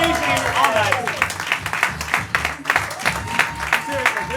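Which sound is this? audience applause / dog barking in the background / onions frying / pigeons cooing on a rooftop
audience applause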